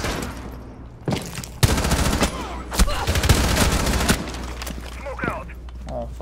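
Rainbow Six Siege match with bursts of rapid gunfire, several volleys of automatic shots cracking close and loud, mixed with excited shouting voices over the action.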